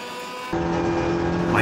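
Race cars speeding along a track, including a white number 15 car: a sudden loud engine roar surges in and holds close, steady and droning.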